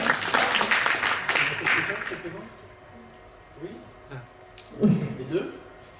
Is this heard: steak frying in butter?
no